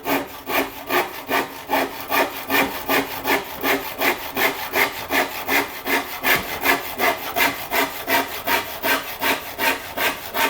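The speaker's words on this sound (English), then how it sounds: "This is way too high to be doing this sawing." Steady back-and-forth strokes of a hand saw cutting through wood, rhythmic and close, with no talking.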